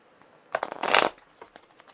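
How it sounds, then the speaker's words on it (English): A brief riffle of tarot cards being shuffled close by, a quick papery flutter lasting about half a second, followed by a few soft taps. "I've already shuffled extensively, but given them just a few more right before we begin."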